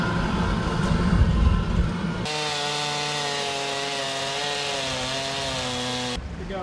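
A chainsaw carves wood at an outdoor fair, its engine starting rough and then settling into a loud, steady high-revving drone that holds close and continuous before cutting off near the end.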